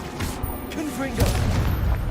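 A Confringo explosion spell bursts in Hogwarts Legacy, a loud boom and crackling rumble that swells near the middle, with a voice briefly heard amid the noise.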